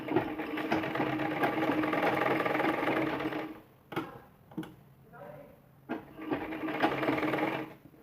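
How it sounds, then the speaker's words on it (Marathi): Sewing machine stitching piping onto a blouse, running steadily for a few seconds and then stopping, followed by short irregular bursts of stitching. "आता इथेपर्यंत ही सिलाई मारून घ्यायची आहे"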